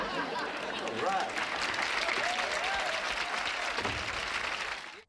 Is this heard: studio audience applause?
yes